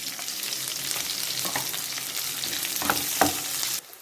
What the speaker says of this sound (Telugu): సన్నగా తరిగి పెట్టుకున్న ఆనియన్స్ వేసుకొని వేయించుకుందాం